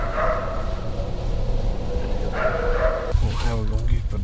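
A hunting dog on a hog hunt barks and yips in the outdoors, sounding fairly close, mixed in with steady talk from the hunters.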